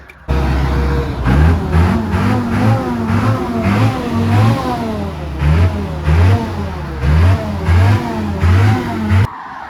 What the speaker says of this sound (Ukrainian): так, все добре з двигуном, дуже легко запускається